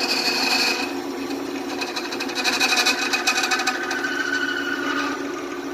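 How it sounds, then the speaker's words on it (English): A skew chisel's top edge scrapes across the face of an epoxy resin shifter knob spinning on a Harbor Freight lathe, giving a steady, close rasping with slight rhythmic pulsing and no voices. "I was using this top edge to scrape across the face"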